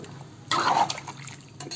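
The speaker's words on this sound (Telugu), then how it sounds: "చిన్న గ్లాసుతో ఒక 3 గ్లాసులు నీళ్ళు పోయాలి." Water is poured from a small glass into a pot of Telangana-style goat head curry: a short splashing gush starts abruptly, fades within half a second and leaves a soft trickle.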